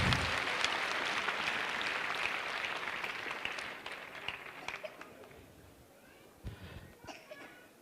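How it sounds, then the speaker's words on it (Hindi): Seminar audience breaks into sustained applause, a dense wash of many hands clapping from the start that gradually thins, with scattered claps and a few voices near the end. "आप सब साथियों के लिए जिन्होंने भी इसमें मेहनत की है, उन सब के लिए जोरदार तालियां एक बार लगा के उनको धन्यवाद देंगे"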